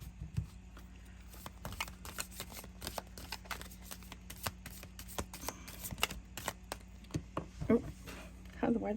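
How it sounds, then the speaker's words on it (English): Tarot cards shuffled by hand: a rapid, uneven run of soft close-up riffling clicks and taps that continues throughout, with a quiet voice at times. "I'm going to shuffle. I did shuffle before I started"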